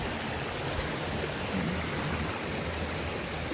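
Water flowing steadily over large rocks in a river, a continuous broadband rushing close by with no voices.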